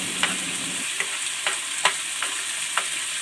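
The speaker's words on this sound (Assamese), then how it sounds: "এতিয়া মাছখিনি উল্টাই দি ভালদৰে মছলাখিনি লগাই দিম।" Fish pieces turned over and frying in masala give a steady close sizzle, broken by a few soft scraping stirs spaced about half a second apart.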